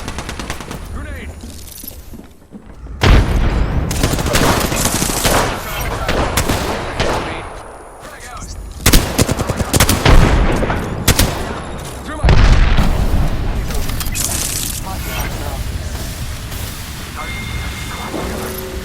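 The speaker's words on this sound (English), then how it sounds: "Grenade." A grenade explodes amid heavy automatic gunfire in an Apex Legends match, with several loud booming bursts and rattling volleys over about nineteen seconds and a voice talking in between.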